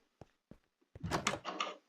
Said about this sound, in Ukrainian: Железные двери.